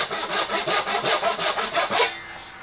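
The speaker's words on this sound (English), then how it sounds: "I cut the cheeks on my bandsaw" A bandsaw cuts the cheeks of a wooden tenon, a close, loud, rasping whine that pulses rhythmically as the wood feeds through, ending with a brief rising tail, with no voices.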